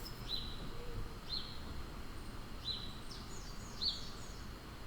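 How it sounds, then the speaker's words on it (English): Short, high bird chirps sound roughly once a second over a steady low background rumble, fairly faint and a little distant. "The birds chirping."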